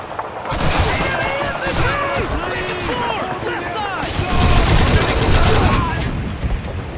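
Call of Duty battle with rapid bursts of rifle and machine-gun fire against German infantry, dense overlapping shots and loud booms, with shouted voices mixed into the din.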